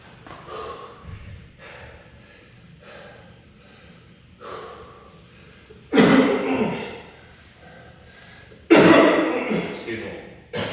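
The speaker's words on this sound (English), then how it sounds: "I don't know why I'm coughing so much." Heavy breathing and short snorting sounds during a leg workout, then two loud, harsh coughing bursts a few seconds apart, close to the listener.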